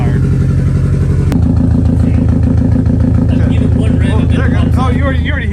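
A Subaru WRX STI engine idles close by with a misfire, a loud, uneven, lumpy chug that pulses steadily throughout. People talk over it.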